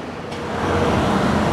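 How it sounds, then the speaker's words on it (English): An old bus in Barranco rolls along a street with a loud, steady engine rumble and road noise that builds after a brief quieter moment. "So there's a bus barreling down this road"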